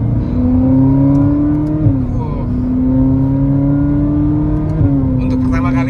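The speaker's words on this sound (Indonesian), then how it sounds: "Subhanallah, ini mobil suaranya ASMR banget ya Allah" A Ferrari engine revs steadily and loudly up close, its pitch rising and falling through several throttle changes, with people talking over it.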